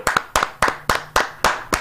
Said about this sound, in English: Round of applause, everybody around the room.